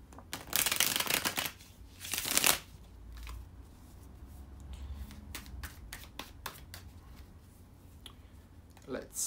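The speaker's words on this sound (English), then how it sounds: "let me shuffle the cards" Tarot cards shuffled by hand during a weekly reading, giving bursts of crisp riffling and flapping around the first few seconds, then softer scattered clicks and taps of cards being handled, close and fairly quiet.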